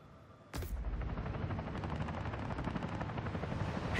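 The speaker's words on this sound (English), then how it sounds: "I need to stop that helicopter before someone gets hurt" Helicopter in the video game Spider-Man: Miles Morales, a loud steady rotor roar with rapid chopping pulses that cuts in abruptly and holds close and continuous, with no talk.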